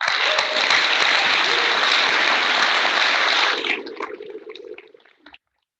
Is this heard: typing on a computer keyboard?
no